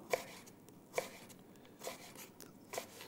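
A knife cuts apple into thin sticks on a board, giving four distinct chopping taps spaced about a second apart, near and fairly quiet, with no talking.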